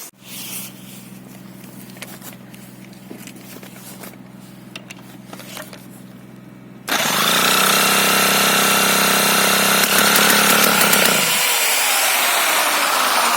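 An old Romet 50-T1 moped engine, started after years of standing, roars to life halfway through after a quieter stretch of background noise, then runs loud and steady, its pitch dropping near the end as it settles toward idle.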